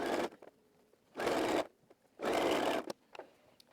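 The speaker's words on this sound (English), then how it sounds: "we're sewing about 3 millimeters or 1/8 of an inch away from the seam" Sewing machine stitching a dress pocket through three layers of fabric, three close, loud bursts of motor whir, each about half a second long and separated by short pauses, with faint clicks between them.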